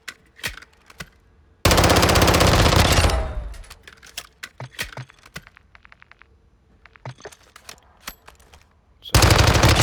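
Automatic gunfire from a Call of Duty weapon rattles out in a loud, rapid burst, then falls to scattered clicks before a second burst starts at the end.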